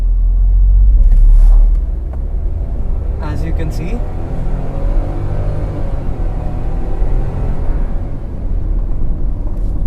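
Nissan Magnite with a turbocharged three-cylinder engine and CVT pulling away in drive, a deep loud engine rumble that swells and holds steady as the car gains speed, with someone talking over it.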